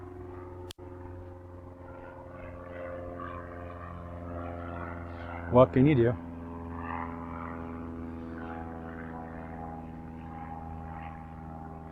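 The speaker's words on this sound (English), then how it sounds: "I'm gonna let this plane go by." A small airplane passes overhead outdoors beside a parked RV, a steady droning hum that lingers through the whole stretch, with a brief louder clatter near the middle.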